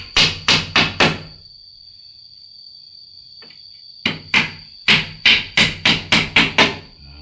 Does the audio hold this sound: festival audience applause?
no